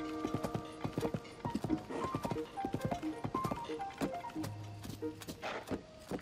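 Rhythmic clip-clop of a horse's hooves trotting steadily in The Legend of Zelda: Tears of the Kingdom, over a light musical backdrop, with a brief low hum midway.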